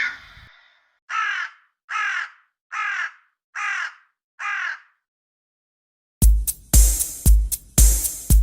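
A crow caws five times in an even rhythm, each call clear and separate, then a louder burst of harsh caws follows close by.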